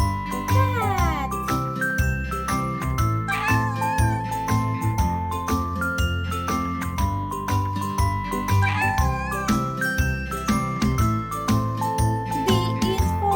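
A cat meows several times over a bouncy children's alphabet song with jingling percussion and singing.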